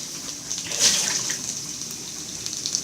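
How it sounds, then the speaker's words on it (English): Soaking water from softened matzah poured out into a kitchen sink, a steady close splashing gush with a brief louder surge near the start, no talking. "I'm going to dump the water out into the sink."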